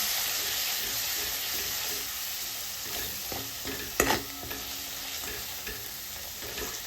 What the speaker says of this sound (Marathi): 2 मिनिटं हे मसाले भाजून द्यायचे.